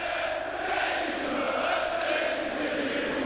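A packed basketball arena crowd roars continuously, a dense wall of cheering and chanting that stays loud and steady throughout with no clear breaks.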